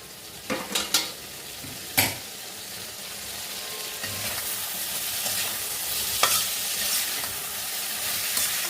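Steady sizzling of pointed gourd (potol) frying in hot oil, with a few sharp clinks and scrapes of a utensil stirring the pan early on.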